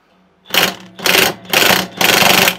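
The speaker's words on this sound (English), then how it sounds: "I'm going to impact it off of my half inch" Half-inch impact wrench loosening a nut on a lawnmower during a Rota clutch refurbishment, giving four loud, close rattling bursts in quick succession, each roughly half a second long.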